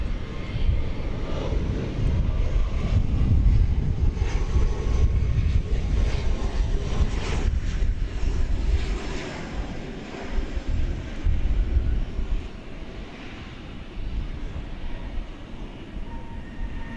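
An airplane passes at DFW Airport with a loud, deep engine roar that builds and then slowly fades over many seconds, with no talking.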